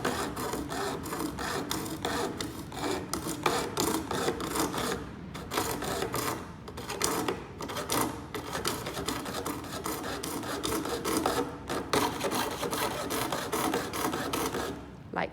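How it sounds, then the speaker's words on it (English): Coping saw cutting a curve around a circle in wood, a steady rasping stroke repeating back and forth throughout, close and fairly loud with no talking. "I'm going to keep sawing now to continue the rest of the circle."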